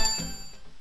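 A bell rings once in the video game Tomba, a short bright chime with a quick attack and ringing overtones that fade over under a second, heard alone.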